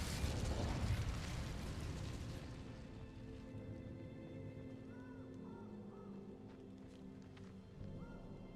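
A burst of fiery spell-casting from the Incendio spell in the video game Hogwarts Legacy erupts loudly at first, then fades into a quieter game ambience with soft musical tones.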